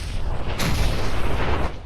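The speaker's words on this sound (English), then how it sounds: "Oh, more explosions." Explosions in the virtual-reality game Fallout 4 VR, in a fight against robot-armored enemies: a dense, continuous rumbling blast with a sharper burst partway through, loud and close, with no talk.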